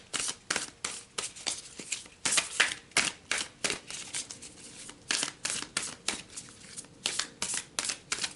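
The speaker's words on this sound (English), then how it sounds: "let's pull some more cards." Oracle cards being shuffled and pulled from a deck, a steady run of soft, crisp riffling flicks and slaps close by, with no talking.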